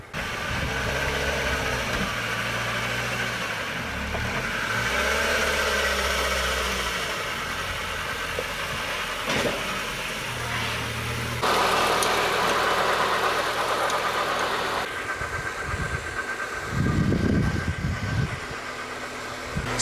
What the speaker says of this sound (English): I think one of the pulleys are going, it's sort of whining.